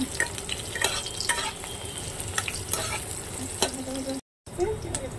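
Loita fish (Bombay duck) sizzling and frying in a pan with whole garlic cloves, with steady crackling and occasional stirring clatter throughout, briefly cut off near the end before the sizzle resumes.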